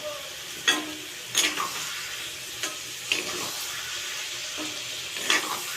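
Bottle gourd and prawns being stirred in a pan with cumin, mustard seeds and dried red chillies, giving a steady soft sizzle broken by several sharp scraping clinks of the spatula at irregular intervals.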